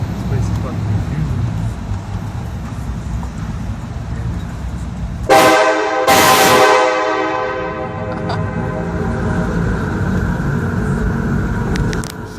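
Airchime K5LA train horn blasting loud and close in two long chords after several seconds of street ambience, then ringing out and fading under traffic noise.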